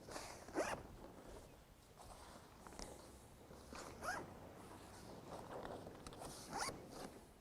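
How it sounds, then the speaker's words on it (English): Several short zipper pulls rasp quietly at irregular intervals on an RS racing dinghy sail, each a quick scratchy zip with soft handling noise in between. "then close the zipper"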